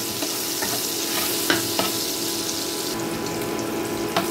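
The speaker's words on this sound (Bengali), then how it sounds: "এখন এটাকেও আমি 3 থেকে 4 সেকেন্ড একটু ভালো করে ভেজে নেব, যাতে আদার কাঁচা গন্ধটা চলে যায়।" Chopped ginger and green chilli frying briefly in hot oil, a constant close hiss of sizzling with a few sharp stirring clicks against the pan.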